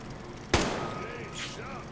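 A single sharp gunshot from the video game Metro Exodus cracks out loudly and close, then leaves a ringing tail over a low game ambience.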